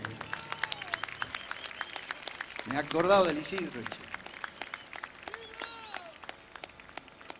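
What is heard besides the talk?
audience applause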